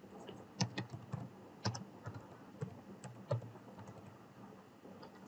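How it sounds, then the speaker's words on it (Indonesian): Keystrokes tapped on a computer keyboard while entering JavaScript code for Node.js, a run of separate clicks with a few sharper, louder key hits standing out, close and fairly quiet with no talking. "Kita ketik."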